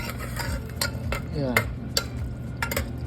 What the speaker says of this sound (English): Add the paneer, give it a good stir